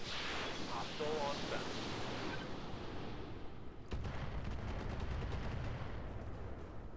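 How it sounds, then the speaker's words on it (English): Ultra 10 autocannon fire in the RogueTech mech game, a dense, continuous roar of rapid cannon bursts and blasts, loud and steady throughout with a brief dip midway. "We got 12 turns of Ultra 10 fire."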